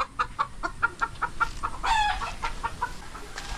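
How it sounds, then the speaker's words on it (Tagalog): Native chicken kept in a pen, giving a run of quick, evenly spaced clucks followed by a brief louder squawk, close by, with no talking. "Mayroon pa ako ditong isang manok native."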